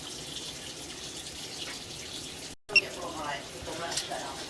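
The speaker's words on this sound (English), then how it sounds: "I can go run some water in the kitchen." Kitchen tap running water into a sink, a steady soft rush that briefly cuts out and resumes, heard close and fairly quiet.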